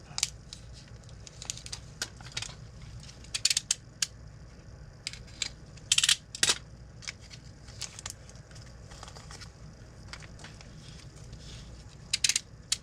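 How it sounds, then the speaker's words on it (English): Small metal mounting screws from a hardware pack being sorted and handled, a scatter of faint clicks and rattles at uneven intervals over low background hum, with a few brighter jingles. "Get out some of these screws that they sent with it"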